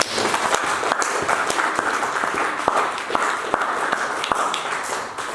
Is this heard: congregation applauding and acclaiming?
yes